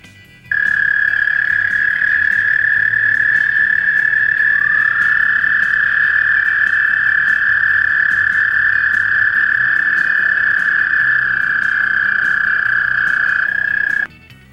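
Frogs croak in a loud, continuous, high trill that starts abruptly, holds steady for about thirteen seconds with a slight pitch shift partway through, then cuts off.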